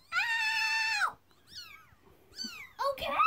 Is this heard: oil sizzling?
no